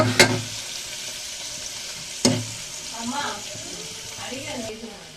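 Soaked chana dal fries in a pan with a close, continuous sizzle. Two sharp stirring clanks mark the start and middle, and a voice murmurs briefly near the end.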